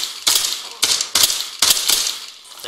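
Gunfire in an Arma video game session, several loud sharp bursts of shots in quick clusters spread across a few seconds, close and punchy.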